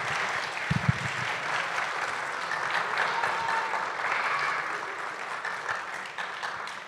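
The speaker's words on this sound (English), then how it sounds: "if we could get a short round of applause for them" A church congregation at a Sunday worship service breaks into a short round of applause, a steady mid-level wash of clapping filling the room for several seconds, with a few sharper claps near the start.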